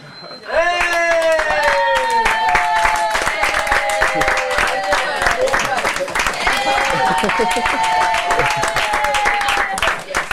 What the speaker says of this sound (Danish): Og de fortjener et stort bifald